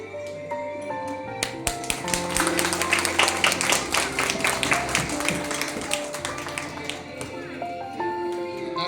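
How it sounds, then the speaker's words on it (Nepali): Applause for a birthday boy from an audience gathered at a temple: a dense burst of clapping that swells and then fades, with sustained musical tones and some voices underneath. "जोडले तपाईँहरूले एकपल्ट ताली चाहिँ मारिदिनुहोस् है"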